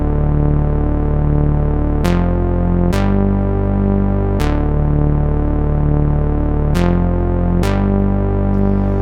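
A Minimoog analog synthesizer plays a sustained, buzzy harmonic tone that changes pitch in a series of held notes, each new note entering with a bright attack, loud and alone with no talking.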